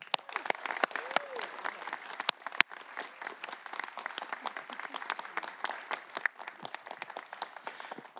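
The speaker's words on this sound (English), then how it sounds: "Please join me in a round of applause" An audience applauds at the Orange County Hall of Fame presentation for Nick Berardino, a sustained crowd clapping filling the room with many sharp overlapping hand claps, and a few voices mixed in.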